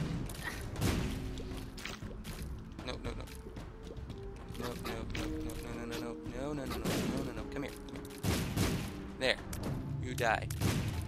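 Explosions in The Binding of Isaac go off as a string of dull booms and thuds among busy, clattering game sounds, with talk running alongside.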